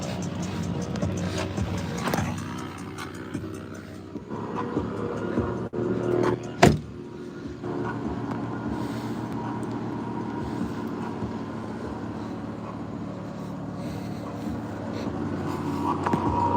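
A car engine idling and running steadily at close range, a continuous low rumble with a brief sharp knock midway, no voices over it.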